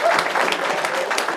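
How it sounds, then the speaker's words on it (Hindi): Applause from a stand-up comedy crowd, a loud, dense patter of many hands that holds steady for about a second and a half. "एक बार प्राची के लिए ताली बजाओ"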